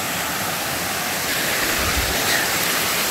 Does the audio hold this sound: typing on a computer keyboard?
no